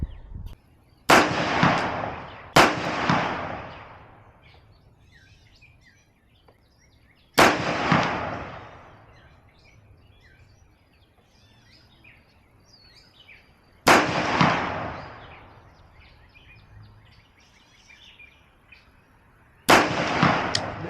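A rifle fitted with a Vortex Spitfire 3x prism scope fires while being zeroed, five loud, sharp outdoor shots spaced several seconds apart, each trailing off in a long fading echo.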